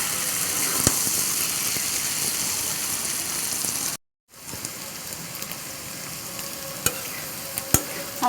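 Pre-fried potatoes and pointed gourd fry in oil in a village-style pan while being stirred, giving a continuous close sizzle with occasional spatula clicks. The sound cuts out briefly midway, then resumes; no one talks.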